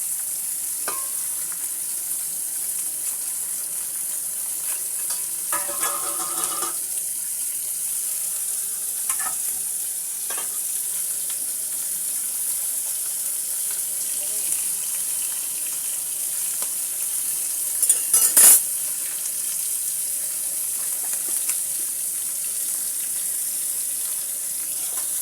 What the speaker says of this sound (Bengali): এবার আমি মাছটিকে সুন্দর করে ভেজে নেব।